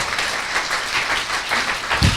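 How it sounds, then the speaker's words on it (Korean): Steady applause from a studio audience at a Korean talk show, a continuous wash of clapping that holds at an even level throughout, with no talking over it. "박수 한번 치고 넘어가시죠."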